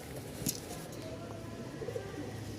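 Giribaz pigeons at a seller's loft in Mirpur, Dhaka, give a few soft, low coos near the end, faint against steady background noise.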